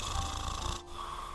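A storyteller's voice imitates a man snoring in deep sleep, giving one drawn-out, raspy rumbling snore that breaks off briefly before trailing into a softer breath.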